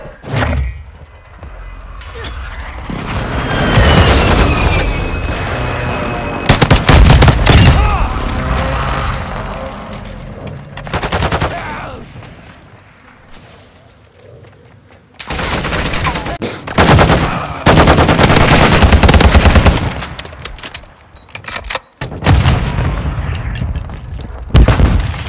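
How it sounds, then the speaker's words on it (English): Hostile precision airstrike in Call of Duty: Modern Warfare II, with loud, heavy explosions landing in repeated bursts alongside gunfire. The blasts swell and fade over a sustained barrage, with brief quieter gaps between impacts. "Hostile precision airstrike."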